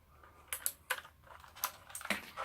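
Keycaps being pressed back onto an APOINT TUF mechanical gaming keyboard with blue switches give several sharp, close plastic clicks in an uneven rhythm, with no talking.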